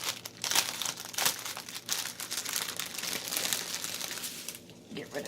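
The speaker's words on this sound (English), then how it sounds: "Sorry about the crinkling, all y'all." Plastic packaging crinkles loudly and continuously during an unboxing of a cat diamond-painting kit. The crinkling is close and busy, with bursts of crackle, while a person talks over it.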